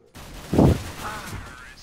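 A short, sharp burst of gunfire from Counter-Strike: Global Offensive cracks loudly once, then fades into a lingering echo with faint game noise.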